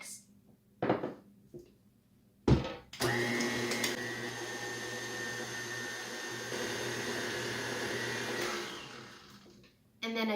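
An electric hand mixer runs continuously for several seconds, beating cake pop batter in a bowl with a steady, loud whirring drone, framed by short bumps at the start and end.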